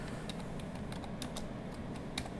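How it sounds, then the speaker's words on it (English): Someone types on a computer keyboard in a quiet room, a string of light, uneven key clicks that runs steadily and close up, with no talking. "that's just done by typing in here"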